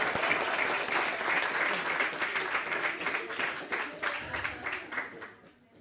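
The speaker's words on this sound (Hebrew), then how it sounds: "מגיע לו כפיים, מגיע" Audience applause at a rabbi's Passover Haggadah lecture, a dense, steady wash of many hands clapping that holds loud and then thins slightly toward the end.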